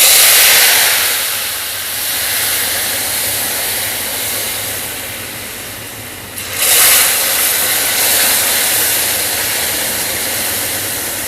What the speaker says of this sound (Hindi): तो अब हम इसमें शीरा डालेंगे बड़ी एहतियात से